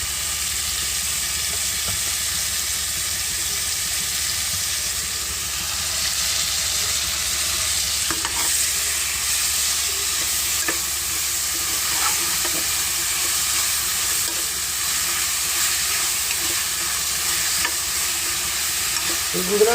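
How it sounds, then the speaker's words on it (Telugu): Ginger garlic paste frying and being stirred in a pan for veg biryani, a loud continuous sizzle and hiss with occasional scraping strokes of the spoon throughout. "అల్లం వెల్లుల్లి పేస్ట్ వేస్తున్నాను"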